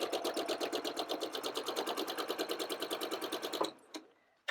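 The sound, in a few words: sewing machine stitching quilt block pieces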